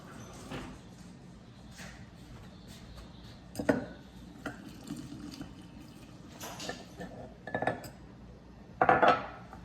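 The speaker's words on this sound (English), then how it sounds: "Stir it up vigorously." A utensil stirs sourdough starter of flour and water in a bowl, making intermittent clinks and scrapes of metal against the dish, with sharper knocks toward the end, fairly close and without talk.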